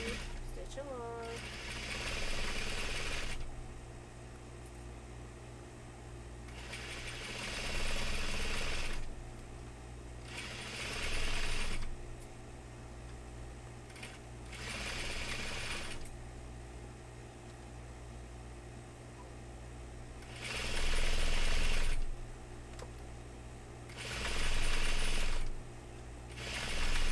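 A sewing machine stitches a 3-inch folded cuff along the hem of dress pants, running in several steady whirring bursts separated by pauses, with a person talking between runs.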